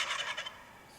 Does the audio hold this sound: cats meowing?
no